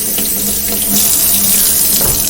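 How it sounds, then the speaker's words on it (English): Tap water runs loudly from a faucet into a bottle, a close, steady gushing stream with a rising tone as the bottle fills, continuous with no talking. "I'm going to fill this bottle a third of the way"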